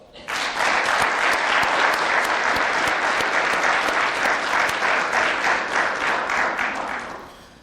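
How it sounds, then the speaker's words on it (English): A fire department recruit class applauds their loved ones at a ceremony, a dense, sustained round of clapping from a large group that swells quickly, holds steady for several seconds, then tapers at the end. "Recruit class, please give your loved ones a big round of applause"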